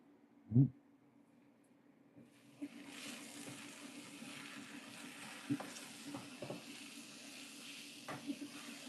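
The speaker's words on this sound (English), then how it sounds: "we've got some sauteed spinach we're working on" Spinach sautéing in a pan, a steady soft sizzle that rises after a brief quiet opening, with occasional stirring clicks and taps, heard fairly close and alone.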